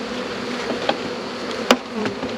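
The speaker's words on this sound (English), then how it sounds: "the bees are starting to get a little agitated" Constant low buzzing of many bees swarming nearby, with a few sharp clicks and taps over the steady drone.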